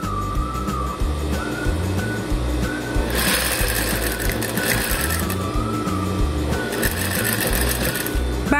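A sewing machine stitches a pleat into a ruffle on a single-bed quilt, a steady close mechanical whir with rapid needle clatter running throughout, briefly easing and picking up again.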